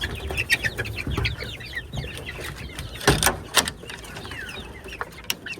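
Caged desi chickens and roosters cluck and squawk close by in a busy, irregular chorus, with several sharper calls breaking through over a low background of movement.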